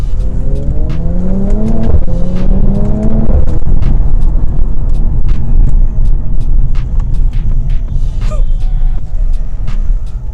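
A Mercedes-AMG C43 engine pulls hard under acceleration in Sport Plus mode, pitch climbing through gear changes, then settles into a loud steady rumble of road and engine noise.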